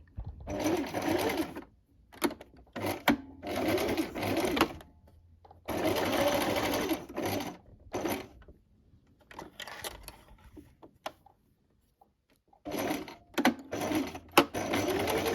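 A sewing machine stitches the seam of a top in several bursts of rapid, close whirring, stopping and starting with short pauses and a longer gap of quiet handling in the middle.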